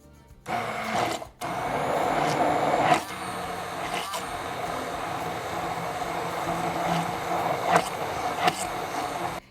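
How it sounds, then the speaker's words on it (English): Immersion blender whirring through egg and cottage cheese pancake batter, a loud steady motorized drone with short pauses and shifts in pitch as it churns, close up, with no voices. "I'm just gonna mix this up in my immersion blender until it forms a nice batter"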